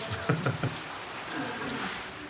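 Steady rain hisses throughout in Wayanad, Kerala, with a few low thumps near the start.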